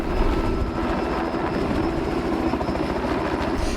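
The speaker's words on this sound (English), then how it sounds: "Helicopters coming to King Island." Several helicopters arriving at the King Island airport give a loud, steady rotor and engine roar that stays strong and close throughout, with no one talking.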